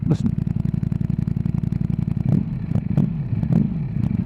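A 2020 Ducati Streetfighter V4S with its standard exhaust idles close by in a rapid, lumpy burble, punctuated by several louder pops and bangs from the pipe, while someone talks over it.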